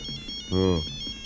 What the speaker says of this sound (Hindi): सर बज रही है सर, अब फोन की घंटी ही।